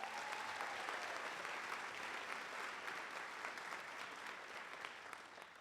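Sustained applause from a large audience, steady dense clapping throughout with no voices standing out.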